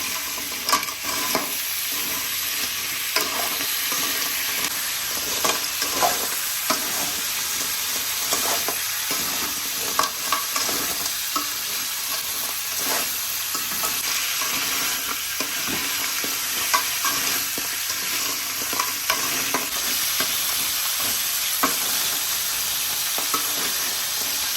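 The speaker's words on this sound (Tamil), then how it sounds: "இப்போ நண்டு போட்டுக்கலாம். இப்போ அந்த மசாலா கூட நல்லா கிளறிக்கலாம்." Crab pieces are stirred into masala in a frying pan, giving a loud, continuous sizzle with frequent scraping and clinking strokes of a spoon in an uneven rhythm, and no talking.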